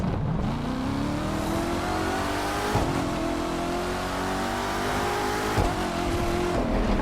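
A supercharged 2019 Corvette ZR1 convertible in The Crew 2 on PS4 drives hard, its engine droning loud and steady while the pitch climbs through the gears, with brief dips at the shifts and no voices.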